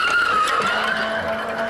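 A Chevrolet stock car skids in a NASCAR race on a windy lap, tires screeching loudly in a sustained high squeal over engine roar, with no talk.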